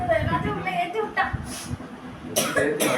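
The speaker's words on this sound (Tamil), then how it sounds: "இருமல் தான் வருது." A person coughs repeatedly during a sneezing challenge, short rough bursts close to the microphone, with people talking around the coughs.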